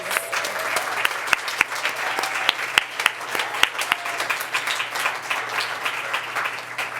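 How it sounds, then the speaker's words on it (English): Audience at a theatre forum gives sustained applause, steady, dense clapping of a seated crowd with a few sharper nearby claps standing out, continuing throughout at moderate level. "So round of applause."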